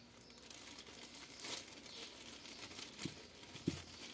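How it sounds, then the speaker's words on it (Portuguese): Plastic bag crinkling and rustling as a wrapped honey bread is slipped inside, soft and close, with a few sharper crackles near the end. "E depois que eu embrulhei aqui, ó, é só colocar no plastiquinho."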